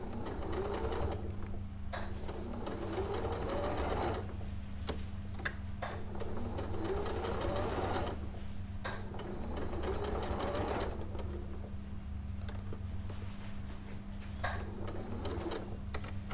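A sewing machine stitches a curved seam on a Bold Bloom quilt, running in steady whirring bursts with brief stops where the fabric is pivoted. The motor hum is close and constant beneath a quick ticking needle rhythm.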